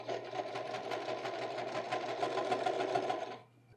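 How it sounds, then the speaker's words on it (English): A sewing machine runs parallel lines of stitching across fabric with a fast, even mechanical whir and rapid needle ticking, close and continuous for about three seconds before stopping. "And then I run 2 stitches parallel to each other from this edge"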